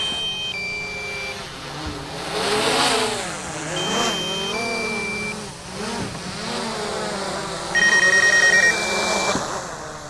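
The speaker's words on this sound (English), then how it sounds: "Hear that beeping noise? Well, that's my drone telling me it's coming down" A fishing drone beeps repeatedly as it descends to land, short electronic tones in several bursts over a steady motor whine and wind-like noise.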